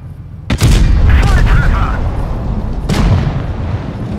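Tank cannon fire in World of Tanks Blitz on the Alpenstadt map involving a WZ-120, two heavy booming shots a couple of seconds apart with rumbling decay, close and loud.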